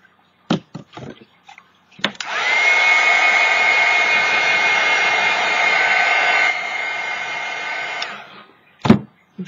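A hair dryer blows on a piece of artwork, switching on with a sharp click and running as a loud, steady close-up whoosh for about six seconds, its pitch dropping slightly near the end before shutting off, with a few knocks before and after.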